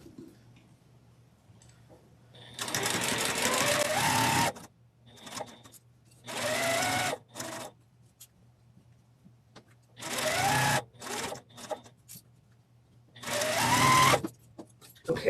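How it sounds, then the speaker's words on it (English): A sewing machine stitches quilt rows together in a quiet room, running in four or five steady bursts of a few seconds each, with short pauses between them. "now we're going to sew the rows together"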